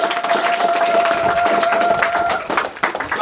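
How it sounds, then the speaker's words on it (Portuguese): A crowd at an outdoor Angolan gathering claps and cheers in a dense, loud wash of applause, with a sustained tone running under it before fading slightly near the end. "Uma salva de palmas para o povo."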